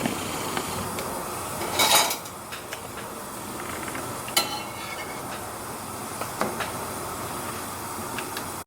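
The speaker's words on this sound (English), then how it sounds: "So I'm roasting my jalapeno here." A jalapeño roasting in a pan gives a steady low sizzle and hiss, broken by a few metallic clinks and a brief louder rattle near the start, close by and with no speech.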